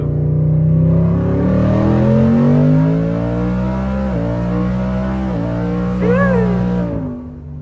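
A twin-turbo 2020 Ford F-150 with the 5.0 V8 accelerates hard under boost, its engine note climbing steadily through several quick gear changes before easing off.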